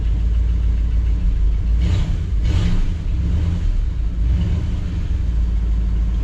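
A 1959 Chevy Bel Air V8 with a bad accelerator pump and a carburetor needing rebuild rumbles loudly nearby, with a couple of blips of revving over a rough idle.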